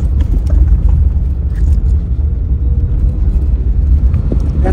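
A car pulls up at a street race in Pakistan, a loud, close, steady low engine rumble that holds throughout with no talking.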